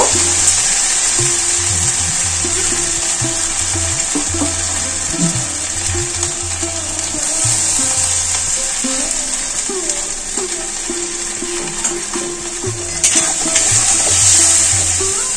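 Ground spice paste with turmeric and a splash of water frying in oil in a home kitchen pan, a steady close sizzle with stirring scrapes and intermittent bubbling throughout.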